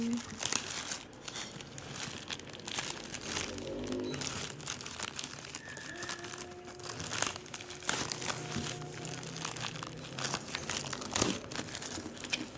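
A cargo package being opened, with paper and plastic crinkling and rustling steadily at close range, and some talk heard under the handling.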